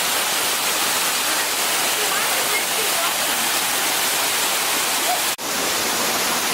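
A Tennessee waterfall pours with a steady, loud, broadband roar that fills the whole clip, close and unbroken apart from a momentary dropout near the end.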